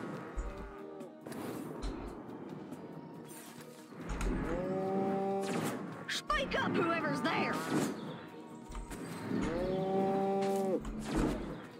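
Cows moo in Destroy All Humans!, several long drawn-out lowing calls in sequence amid game sounds, with a faint low thump or two between them.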